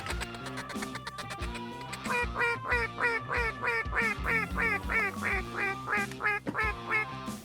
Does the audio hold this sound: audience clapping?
no